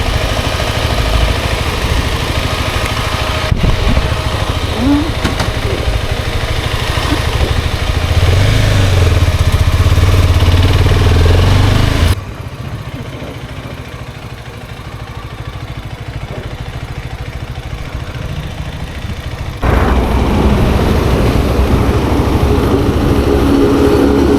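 A motorcycle engine that won't pull properly runs steadily nearby with a loud, droning rumble that drops in level partway through, then swells back up.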